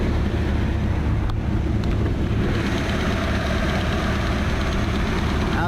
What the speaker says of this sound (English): Alright, blower fan's working.